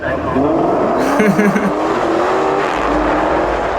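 A Ferrari F12 TDF's naturally aspirated 6.3-liter V12 screams loudly as it revs high, a sustained close roar with rising engine tones, with a voice talking over it.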